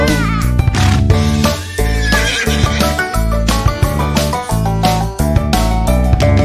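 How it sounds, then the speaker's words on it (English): A horse whinnies amid bouncy, upbeat music, the nursery song Old MacDonald Had a Farm, that plays loudly throughout. "With a neigh-neigh here and a neigh-neigh there, here a neigh, there a neigh, everywhere a neigh-neigh"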